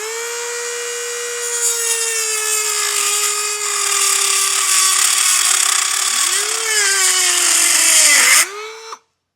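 Rotary tool cutting a protruding plastic tab on a 2025 Chevrolet Trax during a base plate install: a loud, steady high-pitched whine with a grinding edge, dipping briefly as it bites, then spinning down abruptly.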